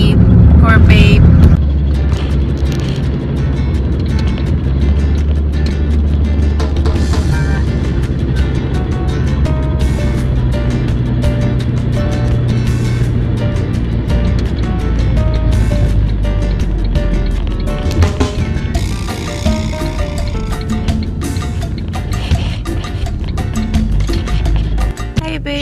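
Car interior on a drive to drop a child off, a steady low engine and road rumble filling the cabin throughout at a constant level, with occasional quiet voices underneath.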